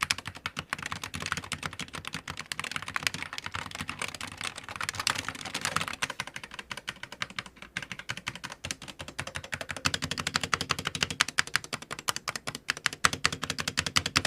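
Steady, rapid typing on a SteelSeries Apex Pro TKL 2023 keyboard with OmniPoint 2.0 switches, dense close-up clacks running continuously at a brisk, even pace with no voice.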